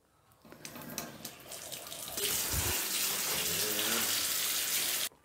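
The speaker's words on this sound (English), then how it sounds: "use hot water straight from the tap" Hot water runs from a kitchen tap, starting softly and then gushing into a sink in a steady rush before shutting off abruptly.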